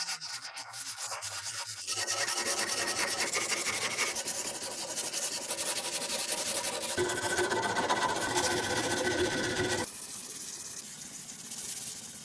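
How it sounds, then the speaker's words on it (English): An axe handle is sanded by hand, working from 40 up to 220 grit, producing a continuous close scratchy rasping with steady back-and-forth strokes, loud and alone, changing tone slightly as the grit changes. "it's time for progressive hand sanding, working all the way from 40 grit up to 220 grit"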